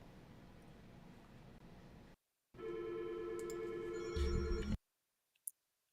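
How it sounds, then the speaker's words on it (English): Phone ringing with an incoming call, a bright electronic ringtone with a repeating tonal pattern that starts after a brief silence and stops abruptly, fairly faint, with no talking over it. "phone call coming in"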